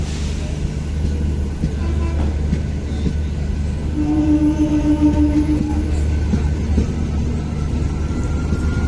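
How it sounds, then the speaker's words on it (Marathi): The Avantika Express arrives at a station, rumbling steadily nearby in a low continuous roar of wheels and engine with a brief horn-like tone in the middle. "बघा तर आपली ट्रेन आले"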